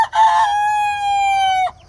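A large Australorp rooster crows once up close, a loud drawn-out call that holds steady for over a second before breaking off, with low farmyard rumble and faint clucking underneath.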